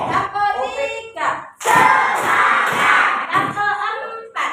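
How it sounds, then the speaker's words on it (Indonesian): Primary school class clapping hands in a counting clap game: bursts of group clapping, loud and close, alternating with a teacher's chanted voice. "Tepuk 1, tepuk 2, tepuk 3,"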